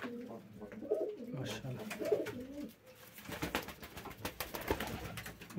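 Van pigeons cooing close by in a loft, soft repeated rolling coos with wing flutters, and someone speaks briefly over them.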